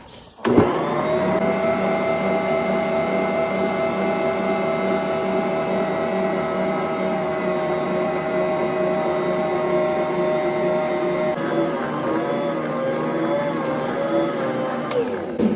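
A stand mixer kneads cinnamon roll dough with a steady, loud motor whine that runs continuously, its pitch wavering slightly toward the end.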